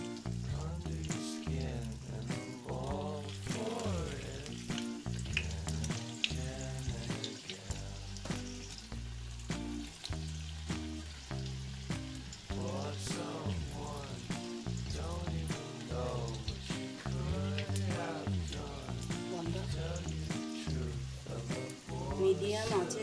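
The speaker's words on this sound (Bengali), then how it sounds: "এবার আমি পকোড়াগুলোকে ভেজে নেব।" Pakoras fry in hot oil in a kadai over a medium flame, with a steady, continuous sizzle and crackle heard under a voice talking throughout.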